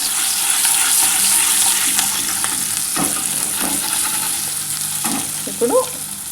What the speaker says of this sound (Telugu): అల్లం పేస్ట్ వేసుకొని ఆడిపోకుండా కలుపుకోవాలండి